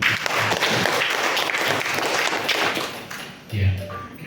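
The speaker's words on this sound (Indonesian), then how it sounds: "Tepuk tangan dong" A crowd applauds with a dense patter of clapping that fades out, followed by a brief thump and a short tone.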